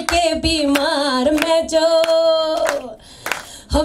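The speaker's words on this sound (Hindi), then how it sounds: "तालियां बजाइए ऐसे सूखे सूखे नहीं" Audience clapping at a film music launch, rhythmic claps mixed under loud live singing and music, fading out near the end.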